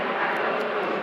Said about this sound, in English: Man, that plane is so loud.